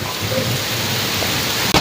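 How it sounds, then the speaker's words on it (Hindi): Heavy rain pours down in Multan, a loud, steady, dense hiss that ends with a sharp knock or clatter. "तो ये चेक करो बारिश कितनी ज़बरदस्त और फुल तेज़"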